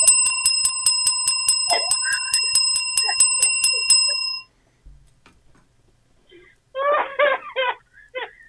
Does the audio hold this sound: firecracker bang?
no